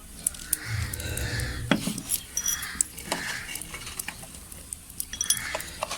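A spoon stirs and scrapes through coriander powder, chili and cumin for chicken biryani, a series of close, quiet rubbing and clinking strokes with no talking.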